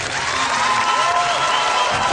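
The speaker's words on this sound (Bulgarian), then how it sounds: "Аплодисменти за тях." Studio audience applause and cheering for the winners of a Bulgarian VIP Dance television show, a dense, steady roar of many hands filling the whole stretch.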